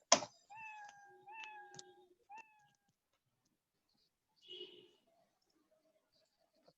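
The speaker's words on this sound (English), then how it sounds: "But did you hear the 3 times meow now?" Scratch's built-in cat meow sound effect plays three times in close succession, each a short, clear synthetic meow. A few faint clicks and a brief muffled noise follow before quiet.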